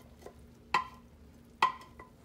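A utensil scrapes leftover goulash pasta out of a pot in two short, distinct scraping strokes with a faint tap between, close and otherwise quiet.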